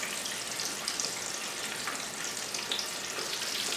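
Mustard-coated chicken frying in a pan over medium heat, a steady, close sizzle with faint crackles and pops throughout.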